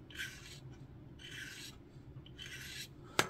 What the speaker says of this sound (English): get my knife, scrape clean